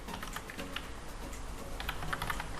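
Steady typing on a computer keyboard while writing Python dictionary code, a continuous run of light, quick key clicks heard close up with no talking.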